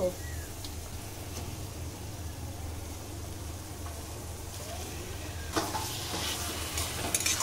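Raw chicken meat sizzles and fries in a pan of spiced masala with ginger and chilli paste, a steady close frying hiss with light stirring throughout, growing a little louder near the end.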